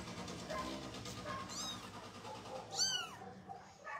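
Young kittens exploring a shelter floor give several thin, high meows, one short cry early and a louder pair near the end, over quiet room noise.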